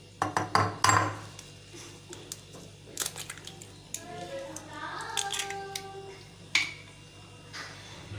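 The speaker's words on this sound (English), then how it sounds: "take a bowl and break the egg first" An egg is cracked into a bowl with a quick cluster of sharp taps and clicks near the start, followed by softer kitchen handling and a brief voice in the background.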